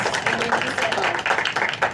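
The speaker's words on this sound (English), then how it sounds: "please join me in a round of applause to thank our Board of Education for their incredible service to education" A round of applause breaks out at a school board of education meeting, moderate clapping from a modest audience, uneven and fairly close, continuing steadily.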